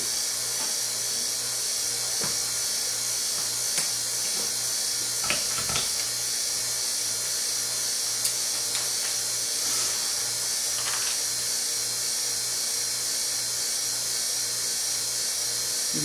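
A vacuum pump draws air out of a bagged composite beam assembly, giving a steady mechanical whine and hum with a few faint clicks and taps, close and continuous throughout.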